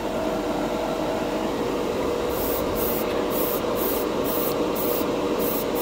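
Mr. Metallic Color GX red lacquer paint hisses steadily from a spray can or airbrush in a close, continuous spray, with a faint rhythmic high-pitched pulsing joining partway through.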